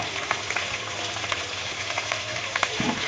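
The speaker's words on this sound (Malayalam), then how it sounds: "ഇനി എണ്ണയിലേക്ക് കറിവേപ്പില ഒന്നിട്ട് കൊടുക്കുക എണ്ണയിൽ തന്നെ ഇട്ടാൽ മതി കറിവേപ്പില" Curry leaves crackling and sizzling in hot oil in a pan during chicken fry preparation, a steady dense frying hiss with small pops throughout, close and moderately loud, no voices.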